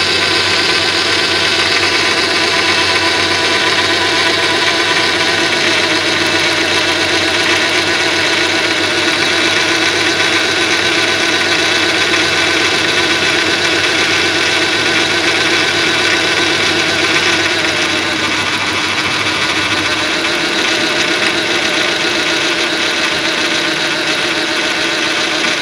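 A Honda car engine idles steadily and loudly up close while its ignition coils are pulled one at a time. The hum is constant, and the low rumble drops away near the end.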